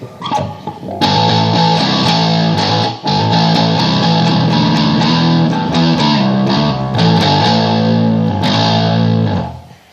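Bass guitar played through a Metal Muff distortion pedal with treble at 12 o'clock and distortion at 9, a loud, continuous fuzzy riff with sustained notes and a brief gap near the start, no voices.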